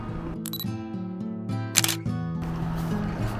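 An SLR camera shutter fires a few times while taking telephoto shots of hydrangeas, giving close, crisp clicks over steady background music.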